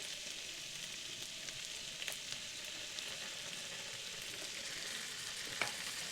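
Chicken pieces in tomato sauce sizzle steadily in a hot pan while being stirred, with occasional soft scrapes and clicks of the spoon over a constant frying hiss; no voices.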